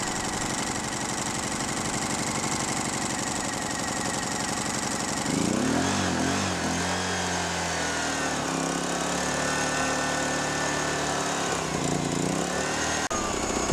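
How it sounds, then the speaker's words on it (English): A Honeywell 2000i inverter generator engine runs with a buzzing, lawn-mower-like drone, shifting to a rougher, lower-pitched running note about midway and continuing steadily, with no talk. "grab the recoil handle and pull the recoil rope 2 to 3 times briskly to start the inverter"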